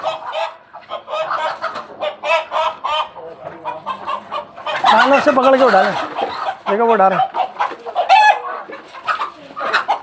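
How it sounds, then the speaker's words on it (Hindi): Chickens cluck and squawk loudly nearby as they are caught and moved to another cage, with agitated bursts mixed among people talking over them. "बाकी हम मुर्गियों को ट्रांसफ़र कर रहे हैं दूसरे पिंजरे में।"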